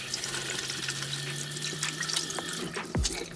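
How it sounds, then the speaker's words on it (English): Tap water running steadily as a pair of sneaker shoelaces is rinsed under it, a continuous close splashing flow with a short gurgle near the end. "I then gave them a quick rinse, squeezed the excess water out with my hands to make them dry quicker."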